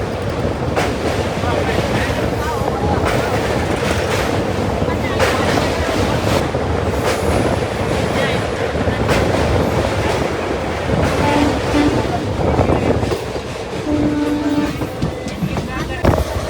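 A crowded passenger train running from Hosapete to Pune rolls along at night with a continuous loud rumble and rattling clatter of the carriages, wind buffeting the microphone and people talking throughout.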